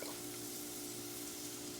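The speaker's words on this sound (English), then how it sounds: "this is starting to sizzle in here" Oil in a pot with cabbage soup ingredients gives a faint, steady sizzling hiss, close and continuous, over a low background hum.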